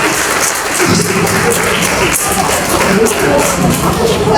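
Loud, continuous applause and crowd noise at an Islamic school graduation ceremony for an RA kindergarten, dense clapping with thumps and shuffling mixed in.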